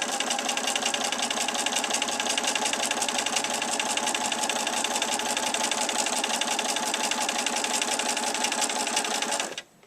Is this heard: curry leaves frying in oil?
no